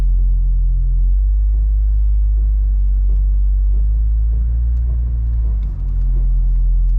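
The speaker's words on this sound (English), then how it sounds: "we've got some pretty serious rubbing" A car, a BMW with an N54 engine swapped to a DCT gearbox, drives along with a heavy low rumble and intermittent scraping rub from the heat shield around the tail shaft, loud and close inside the cabin.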